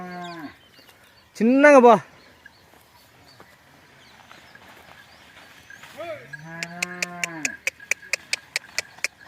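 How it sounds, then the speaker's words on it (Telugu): A strong calf lows twice near cows on a farm: one short, loud moo, then a longer drawn-out call, followed by a run of sharp rhythmic knocks, with some talk nearby. "మంచి పవర్ఫుల్ దూడ"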